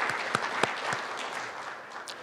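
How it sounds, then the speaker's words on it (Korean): Audience applause at a forum opening ceremony, a short burst of clapping from a hall crowd with a few sharper individual claps standing out, fading toward the end. "세 분께 다시 한번 큰 박수 부탁드릴까요?"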